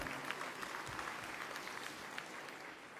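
Audience applause from union members for workplace election results at a leather goods factory in the Ardennes, a steady, dense clatter of many hands that holds evenly for the whole stretch with no talk over it.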